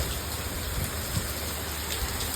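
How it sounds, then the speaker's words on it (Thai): Heavy rain and strong wind on an island in Thailand, pouring down steadily in a dense, hissing roar, with no voices over it. "ฝนตกลมแรงมากเลย ออกไปไหนไม่ได้นะคะ"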